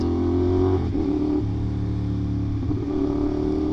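A motorcycle engine is blipped on the throttle during downshifts, a steady loud close engine drone with pitch rising and dipping as revs flick up and drop back between gear changes, with no talk over it.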